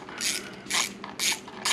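Four short bursts of close, quiet ratchet clicking as bolts come out of the chain sprocket cover of a Honda CRF 250L motorcycle.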